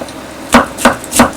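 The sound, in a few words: knife chopping food on cutting board, claw method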